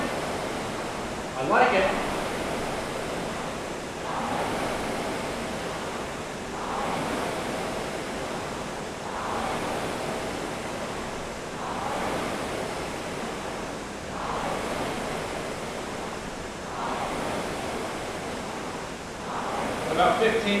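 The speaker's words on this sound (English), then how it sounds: "Hear those flywheels going?" Concept2 rowing machine flywheels spin with a whooshing, surging rush that swells and fades roughly every two seconds in steady rowing rhythm, a brief spoken remark near the start.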